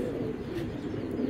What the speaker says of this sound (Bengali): 2টাই মাদি কবুতর।